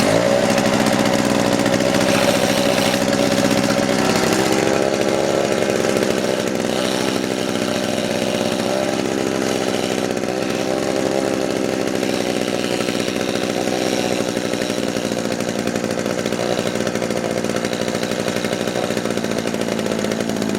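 An old Ural 2T Elektron chainsaw, started after sitting idle a long time, runs loud and close with a steady, buzzing two-stroke drone that holds on without a break.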